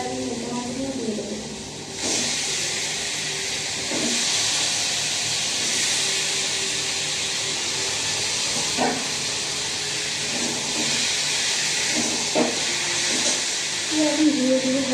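Small fish dropped into a hot pan with oil and stirred spices, sizzling and hissing strongly and steadily at close range, with brief clinks of a utensil against the pan.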